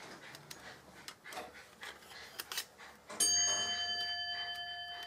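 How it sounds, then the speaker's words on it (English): Grandfather clock striking one o'clock indoors, a single resonant chime that rings out and slowly decays after some faint rubbing and handling noises. "One o'clock in the afternoon, that's the grandfather clock just striking."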